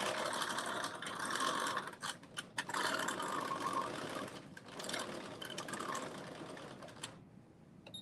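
A sewing machine back stitching the seam of a cropped bodice, running in steady mechanical bursts with brief pauses before stopping near the end; no talking.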